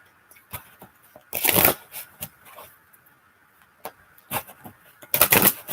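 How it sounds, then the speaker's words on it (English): Tarot cards being shuffled by hand in several short riffling bursts, close and crisp. Soft taps and handling noises sound in the pauses, with no talk. "I'm going to shuffle"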